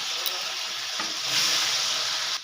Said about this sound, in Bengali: এবারে আমি পনিরগুলো ভেজে নেব।